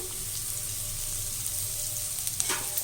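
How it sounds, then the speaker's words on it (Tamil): Chopped onion sautés in a pan with a soft, even sizzle under a low background hum, and a couple of light stirring scrapes near the end. "நல்லா வதக்கிடலாம் இப்போ வெங்காயம் நல்லா வதங்கிடுச்சு"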